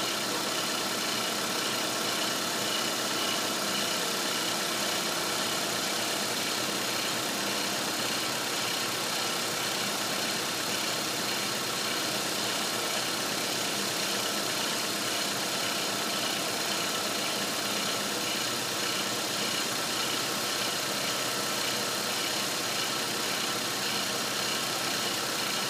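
A 2006 Nissan Altima with the 2.5 engine idles in a steady, even hum, a constant mid-low drone with faint vibration and no speech over it.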